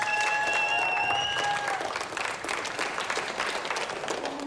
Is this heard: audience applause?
yes